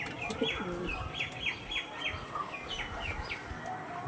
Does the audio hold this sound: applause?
no